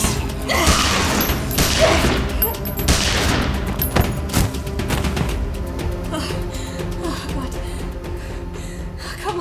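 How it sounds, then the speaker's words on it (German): Rapid bursts of pistol fire in a German zombie radio drama, several sharp loud shots ringing out in quick succession amid shouting and gasping voices over a tense, busy soundscape. "Du musst sie erschießen! Ja, die Pistole!"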